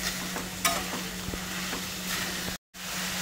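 Jaggery melting in a pan while being stirred for fried modak filling, giving a steady soft sizzle with a few scraping strokes, close and alone, with a brief dropout near the end.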